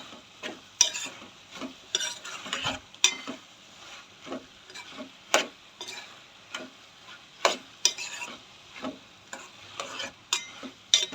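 Tomato chutney with soaked tamarind being stirred in a pan, a spoon scraping and knocking in a steady irregular rhythm of close, clear strokes with faint cooking sizzle beneath, no voices.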